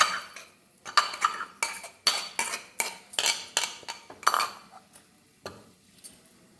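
Garlic is pounded in a mortar and pestle for a dhaba-style garlic paratha: a steady series of sharp, clinking strikes about twice a second, each with a brief ringing tail, close and clear with no talk.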